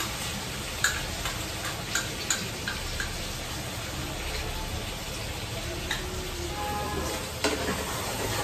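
Spice paste frying and being stirred in a pan, a steady hiss with sharp spoon clinks and scrapes scattered through it, fairly close.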